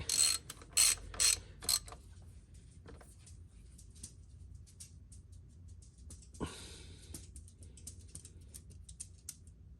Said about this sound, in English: I'll just tighten it snug.